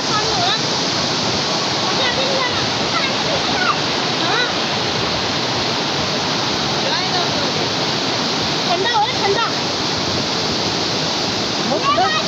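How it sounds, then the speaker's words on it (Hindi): A waterfall pours into a cold river in a jungle setting, producing a steady, loud, full-bodied rush of water that continues without pause throughout. "ये दरिया है और ये है जी आबशार"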